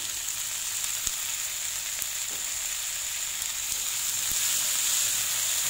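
Leunca (pea eggplants) and chilies fry in a wok, a steady close sizzle that holds at a constant level and grows a little louder near the end, with no voices.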